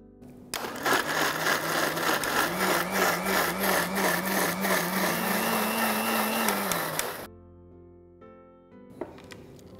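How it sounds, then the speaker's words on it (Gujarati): A kitchen mixer grinder crushes sweet corn with water into a paste for soup, a loud steady motor whir with a wavering pitch lasting about seven seconds, then stopping abruptly into a near-silent room. "આપણે આ સ્વીટ કોર્ન મિક્સરમાં ક્રશ કરી લઈએ"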